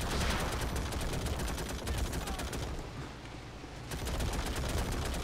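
Dense, continuous gunfire from a battle in the video game Call to Arms, with rapid automatic bursts and overlapping shots over a steady roar, easing briefly in the middle before resuming at full intensity.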